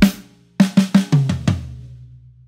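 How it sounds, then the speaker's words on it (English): Drums from a lesson sound one opening hit, then a quick run of five punchy strikes that build into a ringing final crash, close and loud with no talking. "After the third count, you play a kick drum and your snare drum and hi-hat together."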